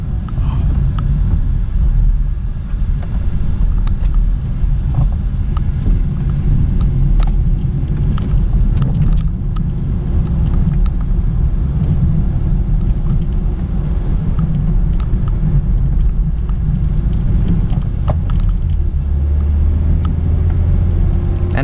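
A Honda Brio 1.3 climbing a steep road gives a steady, loud interior drone of engine and road rumble throughout, with occasional small knocks and rattles and no speech.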